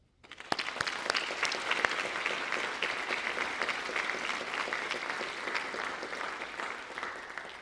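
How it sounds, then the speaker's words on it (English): A room of attendees at an education advocacy event breaks into applause, rising quickly and holding a full, steady clatter of clapping for several seconds, with a few sharp individual claps standing out. "Please join us in taking a moment to applaud Kathy and her team."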